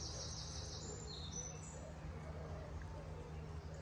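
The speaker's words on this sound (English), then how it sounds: "when you walk through green space and you can hear just the birds singing" Birds sing in a green space, steady high chirps and warbling calls at moderate distance over a constant low hum of distant traffic, with no talking.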